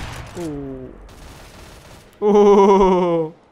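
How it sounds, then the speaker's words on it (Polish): Gunfire in the game CS:GO: a brief harsh burst of shots, loud and close, following a stretch of quieter game noise and a voice talking. "Teraz był to mega szybki strzał."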